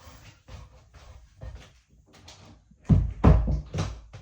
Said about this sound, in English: let me just shut that door because I hear the echo already